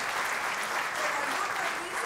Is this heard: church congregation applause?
yes